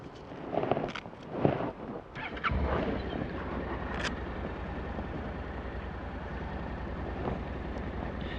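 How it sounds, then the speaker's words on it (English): A 2013 Honda Integra 700 scooter's parallel twin engine drones steadily while riding, the note settling into a continuous low hum under heavy wind rush after a few brief bumps at the start. "it doesn't really sound like a scooter, and that parallel twin makes it sound very much like a bike"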